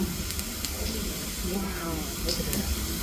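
Steam hisses steadily from molten lava in a lava demonstration, a loud continuous broadband rush with faint crackles and a voice murmuring underneath.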